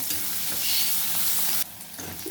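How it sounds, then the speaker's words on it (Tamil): Onions are stirred and sautéed in oil in a pan, a continuous close frying sizzle with spoon-scraping stir sounds, ending abruptly into a quieter fry. "வெங்காயம் நல்லா பொரிஞ்சு வதங்கி வரட்டும்"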